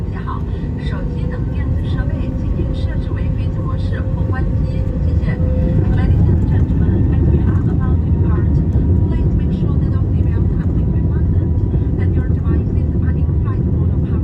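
A China Southern airliner taxis out toward the runway, heard from inside the cabin as a steady, loud low engine rumble and hum that runs unbroken throughout, with faint cabin noise on top.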